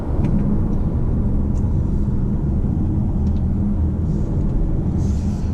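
Audi Q3 Sportback with a 1.5 litre engine in dynamic mode and manual gearbox, its steady low engine drone and road rumble running continuously from inside the cabin, with no speech.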